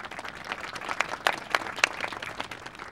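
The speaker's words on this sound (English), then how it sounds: "So let's give them a round of applause." Outdoor crowd at a Japanese garden dedication ceremony giving park staff and project workers a round of applause, moderately quiet clapping from a sizable group with a few sharper nearby claps standing out.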